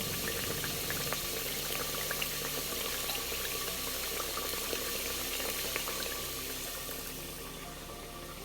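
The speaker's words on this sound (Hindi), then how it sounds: "अब ये मसाला भून चुका है, अब ये इसके अंदर दाल डाल दूँगी।" Soaked lentils poured with a little water into a pot of fried spice masala, setting off a steady bubbling sizzle that stays busy throughout and eases slightly toward the end, with no talk.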